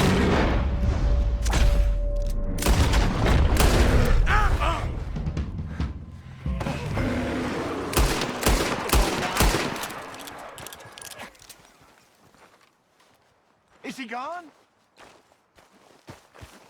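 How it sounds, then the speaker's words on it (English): Gunfire in Red Dead Redemption 2, a dense run of sharp, loud shots packed close together over the first half, then sparser, fainter pops and footsteps as the shooting dies away. "Shoot that thing, please!"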